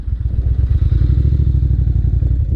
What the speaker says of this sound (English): you have to bring the revs up